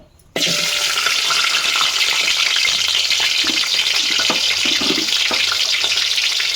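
Carrots, okra, onions, green chillies and bottle gourd frying in a pan for sambar give a steady, loud broadband sizzle with faint stirring clinks, after a brief quiet start.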